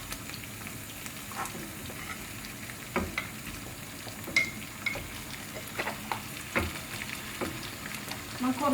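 Catfish pieces frying in red curry paste, a soft crackling sizzle with scattered pops and stirring clatter, fairly quiet and close.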